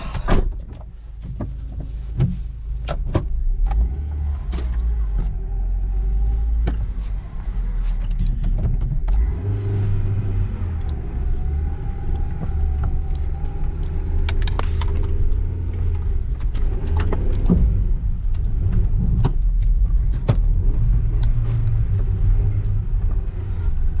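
Cars roll slowly into a garage with a low engine rumble and drone, and a few door thumps and clicks sound close by.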